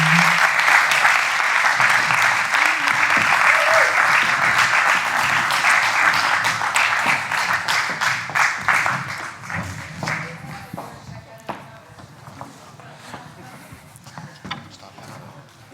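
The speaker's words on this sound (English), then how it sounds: "Give them a round of applause." An audience at a film festival talks event applauds speakers gathered on stage for a Q&A, with loud, dense clapping that holds steady for about nine seconds, then thins into scattered claps with a little talk.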